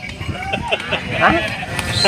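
Sheep bleat at a crowded weekly sheep market in Gudur, several short calls rising over a busy background of people talking nearby.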